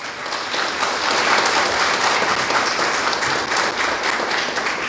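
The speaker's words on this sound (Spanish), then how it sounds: "Eso es digno de un aplauso." An audience at a government ceremony opening a children's daycare center breaks into steady applause, many hands clapping in an even, sustained wash throughout.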